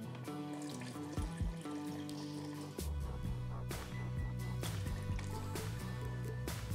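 About half a litre of water pours steadily into a pot of pork knuckles, a continuous close splashing and running-water rush that fills the whole clip with no talk.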